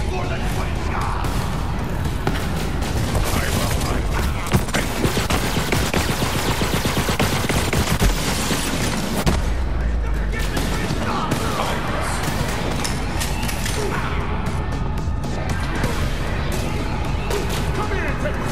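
Gunfire in the video game Borderlands 3, played as FL4K in Floodmoor Basin: a dense, steady stream of loud rapid shots and booms fills the whole stretch, with speech mixed in over the continuous firing.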